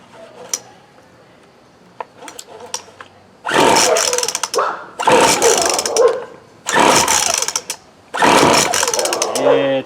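A Craftsman curved shaft string trimmer's small two-stroke engine is pulled over with a few faint clicks, then bursts into loud, close running in several surges, cutting out between each one.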